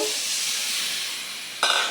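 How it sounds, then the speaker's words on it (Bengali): Water poured into a pan of onions and spices being cooked down for a koi fish curry sets off a loud, steady steaming hiss, with a sharper sizzling burst near the end. "এখন একটা পানিটা দিয়ে দেব"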